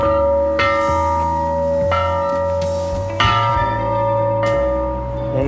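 A swinging metal tank sculpture rings like a bell, with several resonant strikes sounding one after another, each leaving a long shimmering hum that overlaps the next.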